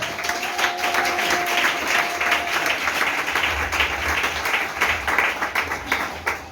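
A church congregation applauds at a service, a full, steady round of clapping from many hands that carries on for several seconds, with a low hum beneath it and no clear speech.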